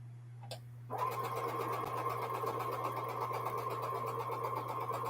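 A home sewing machine chain-pieces quilt blocks. After a brief click and a short pause, the motor starts and runs in a steady, even whir close by, continuing to the end without any voice.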